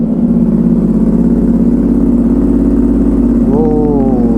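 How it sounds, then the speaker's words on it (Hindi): An Aprilia RS 457 motorcycle with a loud aftermarket exhaust idles steadily after a cold start with a low, throbbing rumble, close by; near the end the pitch rises briefly as it revs. "करते हैं गाड़ी को पहले कोल्ड स्टार्ट सुनाते हैं आपको यार"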